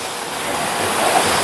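A river at Castaños Lejos in Bailen, Cavite flows with a steady, broad rushing wash, continuous and fairly loud, with no voices over it.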